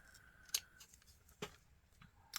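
Scissors trim a small piece of fabric headband for a Halloween junk journal, giving two or three brief, crisp snips spaced apart in a quiet room.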